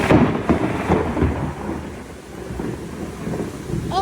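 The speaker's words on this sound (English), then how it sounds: "Because the lightning and the thunder were at the same time." Thunder rolls through a summer thunderstorm, a heavy rumbling roar that swells and fades over steady rain, loud and close, with no voices.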